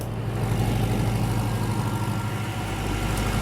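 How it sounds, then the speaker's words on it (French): A diesel-type engine adapted to run on lean biogas (about 60% methane, 40% CO2) drives a generator, giving a steady, loud low-pitched drone with a constant engine hum throughout. "C'est un moteur type diesel, mais qui a été adapté spécialement pour le biogaz."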